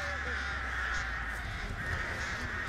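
Crows cawing in the video game Dead by Daylight, a few harsh caws over a steady ambient drone at moderate level, with faint talk in the background.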